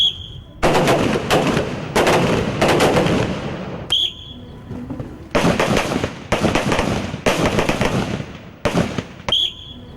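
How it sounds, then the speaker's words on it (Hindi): Rifle shots crack out at firing practice on targets, with shooters in standing, kneeling and lying positions; loud sharp reports land in several clusters of rapid shots, separated by brief pauses, with a few isolated single cracks. "they're going to fire from 3 positions: standing, kneeling and lying"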